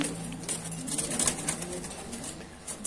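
Meat pigeons coo softly and repeatedly in a busy, noisy enclosure, with scattered rustles and chirpy background calls.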